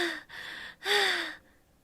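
Two drawn breaths, like gasps, sound in the horror game Doki Doki Literature Club, each lasting about half a second, loud and close with a tonal, slightly eerie quality, then silence.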